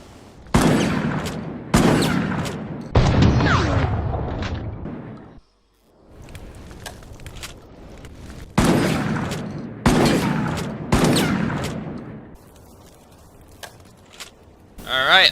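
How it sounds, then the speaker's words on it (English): A pump-action shotgun fires in Resident Evil: Operation Raccoon City with loud, booming blasts, about six shots in two groups of three separated by a short lull, each followed by a fading tail and faint mechanical rustle. "let's test the pump-action shotgun out"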